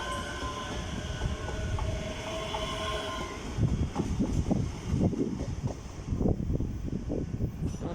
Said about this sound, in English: Passing is the 1707 cross country service to Bristol Temple Meads.